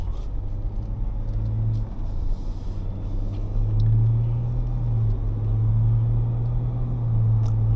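A 2024 Ford Ranger Platinum V6 pulls away on a road trip, its engine a steady low drone whose pitch rises as it accelerates, heard from inside the cab with no talking.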